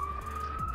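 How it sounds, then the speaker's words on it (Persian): An ambulance siren passing by outdoors, a steady high wailing tone held through the brief moment, moderately loud against a low background rumble. "آمبولانس داره میره دیگه"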